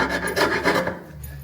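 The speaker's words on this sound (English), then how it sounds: "I've got a big file. We're going to deburr it." A large bastard file rasps back and forth across a metal Harley Road Glide crash bar to knock off burrs, loud steady strokes close up with no talking.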